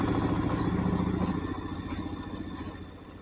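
A sewing machine runs sashiko-type stitches at an even speed, making a rapid, steady mechanical chatter close by that eases and fades toward the end.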